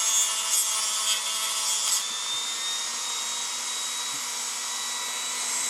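Axles on a toy car kit for a custom Hot Wheels 1970 Ford Escort RS1600 being trimmed by a small electric tool, giving a steady high whine with gritty grinding for the first two seconds, then a smoother hum alone.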